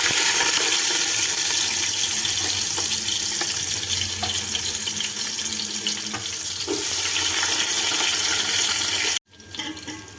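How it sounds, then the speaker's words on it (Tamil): Onions are added to hot oil in a pot for biryani, producing a loud, continuous sizzle and hiss that holds steady before cutting off abruptly near the end. "இப்போ இதில் வெங்காயம் போட்டுருவோம்."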